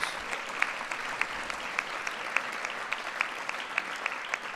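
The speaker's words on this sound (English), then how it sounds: "Give yourselves a round of applause." An audience applauds steadily and fairly close, a dense wash of many hands clapping without pause at a gathering addressed by President Trump.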